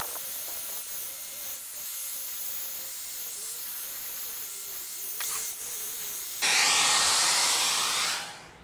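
Steady hiss of a hair dryer blowing on a sticker stuck to a Jeep Gladiator, near and continuous, turning brighter and rougher for the last couple of seconds before stopping.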